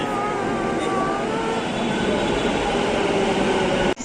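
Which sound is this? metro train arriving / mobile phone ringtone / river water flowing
metro train arriving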